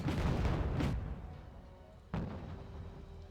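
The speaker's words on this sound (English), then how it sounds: "Su-22 dropping the bombs once again" Su-22 bombing run in Wargame Red Dragon: two heavy booming explosions, the first a loud rumbling blast that fades, the second a sharp impact a second later, followed by a decaying rumble.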